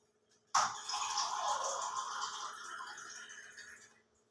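Water is poured from a glass onto washed toor dal in a pot, a sudden splashing gush that settles into a steady trickling pour for a few seconds before stopping, close and fairly quiet.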